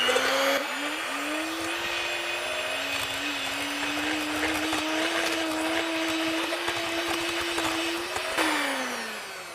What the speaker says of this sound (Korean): 핸드믹서로 머랭 시작하겠습니다.